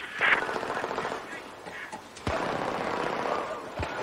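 Machine gun fire in the Battlefield 4 video game, with dense rattling bursts amid game noise and a couple of sharper cracks, fairly loud and continuous.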